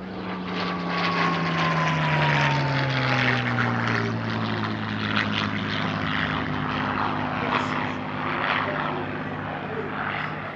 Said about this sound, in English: the team's Spitfire Mark V and Hispano HA1112M1L Bouchon set up for an opposing pass and tail chase sequence.